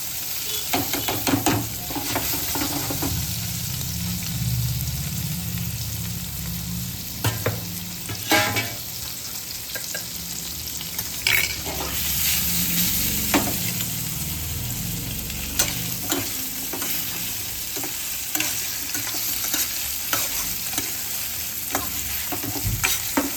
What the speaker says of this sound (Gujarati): હવે આમાં પનીર નાખી દઈશું, લાલ બ્રાઉન જેવું થઈ જાય ત્યાં સુધી આપણે એને